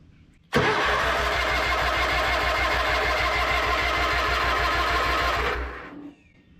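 Vintage Craftsman garden tractor engine cranking on its starter for about five seconds, a fast, steady, loud mechanical churning close by that cuts off abruptly without catching.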